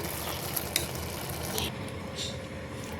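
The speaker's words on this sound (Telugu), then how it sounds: "మనం ఫ్రై చేసి పెట్టుకున్నాం కదా జీడిపప్పులు, బాదం పప్పులు, అవి వేసేసుకుందాం." Cashews and almonds, fried earlier, being stirred into a carrot and beetroot halwa, giving a steady soft sizzle and scraping of the spoon against the pan, with a couple of small clicks near the start and no talking.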